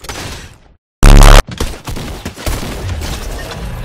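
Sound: gunfire in Fortnite video game

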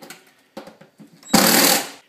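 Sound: screwing range hood chimney bracket to the wall

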